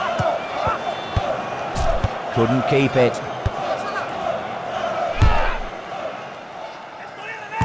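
A stadium crowd of fans in the 2002 FIFA World Cup video game keeps up a steady, distant roar and murmur throughout, with ball thuds and a commentator's voice speaking over it.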